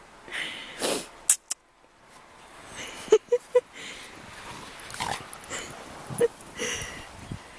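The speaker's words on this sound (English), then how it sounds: "Crazy dogs." Two dogs playing in snow snort, huff and rustle in scattered bursts, some loud and close, with quiet gaps between and a human voice briefly present.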